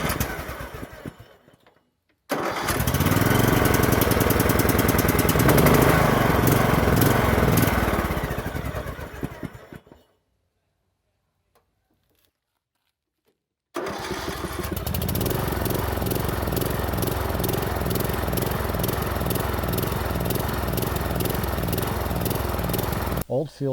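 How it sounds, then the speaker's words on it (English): A barn-find riding lawn mower with a clogged carburetor idles and surges, its engine revving up and down unevenly. It runs loud and close for several seconds, falls silent, then restarts and runs steadily again to the end. "the machine started up but was surging wildly. Surging is when the engine revs up and down by itself but won't reach a constant idle."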